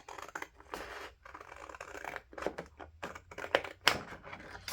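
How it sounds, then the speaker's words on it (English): Scissors cutting out paper for a bullet journal: a run of faint, crisp snips and rustling scrapes at close range, uneven in rhythm. "I am going to just take my scissors here"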